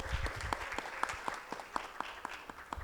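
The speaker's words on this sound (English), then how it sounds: "give a round of applause for Rosa Duffy" An audience at a community culture event gives a round of applause, soft and somewhat distant, with a few sharper individual claps standing out at a fairly regular pace for about three seconds.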